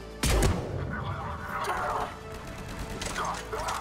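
Sniper rifle fire in the video game Mass Effect 3, one sharp loud shot followed by rumbling combat noise and another burst later, with someone talking over the game sounds.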